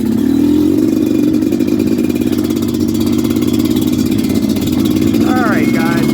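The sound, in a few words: Suzuki LT250R quad engine riding on trail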